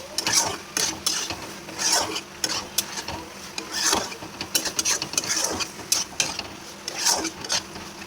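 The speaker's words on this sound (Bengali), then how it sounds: "এখন মোচাটাকে দিয়ে আমি ভালো করে নাড়াচাড়া করে নেব" A spoon scrapes and clatters in a pan as boiled, mashed banana flower is stirred into fried spice paste, irregular scraping strokes with light sizzling underneath, close and fairly loud.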